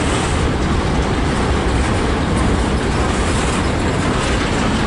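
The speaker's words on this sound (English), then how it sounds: "this is a long train" Long CSX freight train passing at close range in Fostoria, Ohio, a loud continuous rumble and clatter of wagons rolling by without letup, with no voices.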